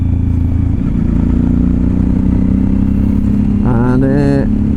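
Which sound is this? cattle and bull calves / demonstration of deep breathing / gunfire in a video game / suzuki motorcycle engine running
suzuki motorcycle engine running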